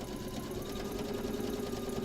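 Sewing machine stitching down a rolled hem, running in a steady continuous whir with a fine rapid needle rhythm throughout, close and moderately loud with no talk.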